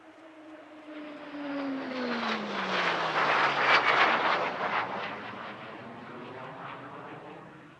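A warbird aircraft based at Scone flies past at an air show. Its propeller engine roar swells from a distance to loud overhead, with a falling Doppler tone, then fades away.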